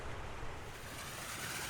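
Steady, dense rushing water from a nearby waterfall in the Rocky Mountains, a constant broadband roar with no breaks and no voices.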